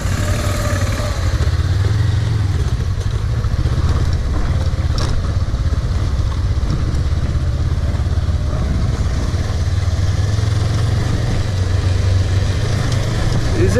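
Suzuki V-Strom 250 motorcycle engine ridden off-road at night, a steady loud drone with rough, clattering low rumble throughout, close to the rider, with no clear pauses or idle.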